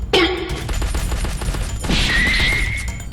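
Video game gunfire, with a dense rattle of quick shots and a ringing tone that rises partway through.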